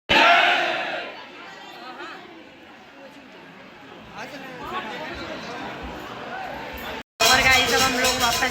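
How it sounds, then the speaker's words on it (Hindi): A dense, large crowd packs a temple in Mathura, by the Radhe Rani temple, a loud continuous roar of overlapping voices and shouts close around the listener, briefly cut off near the end before surging back. "और भीड़ देखो आप, यहाँ पे बहुत सारी भीड़ है।"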